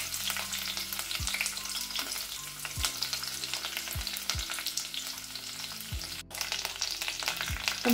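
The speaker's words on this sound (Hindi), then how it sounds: "अब इसमें हम डालेंगे अदरक लहसुन," Ginger and garlic fry in a pan with whole spices, a steady loud sizzle broken by repeated scraping stirs of a spoon against the pan, close up with no talk.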